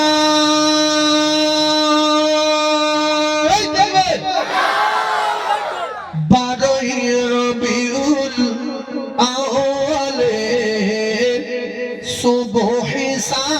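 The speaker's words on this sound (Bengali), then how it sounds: "তুমি তাকবীর দাও" A crowd at an Islamic sermon chants takbir in loud, drawn-out unison calls. A single sustained voice leads before the massed shouting swells and repeats in waves.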